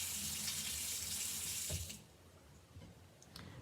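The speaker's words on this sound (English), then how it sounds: "I'm gonna rinse out the yellow now." Tap water runs hard into a sink while yellow watercolor is rinsed out, a steady close hiss that cuts off abruptly partway through, leaving faint drips and handling sounds.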